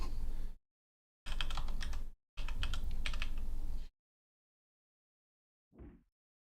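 Bursts of typing on a computer keyboard come in three quick runs of rapid clicks separated by short silences, followed by one faint isolated tap.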